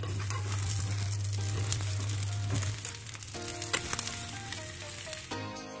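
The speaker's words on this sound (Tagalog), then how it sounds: "malapit na maluto ang ating ulam" A breakfast dish fries in a pan at home, with a steady, loud sizzle throughout and occasional stirring clatter as it nears doneness.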